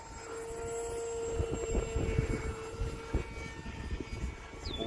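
A Hobbyzone Aeroscout S 1.1m RTF radio-controlled airplane drones overhead in windy conditions, its steady motor whine sustained throughout with gusty buffeting noise underneath.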